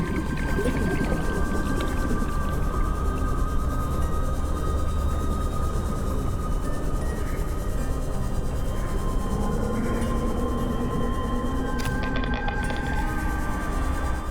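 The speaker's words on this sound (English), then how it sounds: "The ghost of a reaper's roar." In the video game Subnautica Below Zero, a Reaper Leviathan's ghostly roar rolls in long, low, moaning calls. It sounds distant and echoing over a steady underwater ambient rumble.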